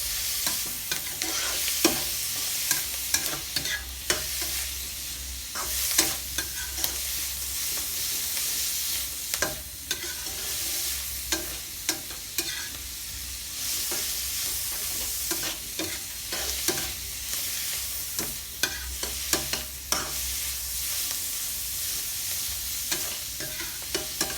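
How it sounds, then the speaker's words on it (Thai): Pickled mustard greens and egg are stir-fried in a pan. A soft sizzle runs underneath, and a spatula scrapes and knocks the pan again and again at an uneven rhythm. Nobody talks. "ลดความเค็มของ ประกาศนะครับผม แล้วน้ำกลิ่นหอมของมันก็จะออก ผัดไปเรื่อยๆนะครับ"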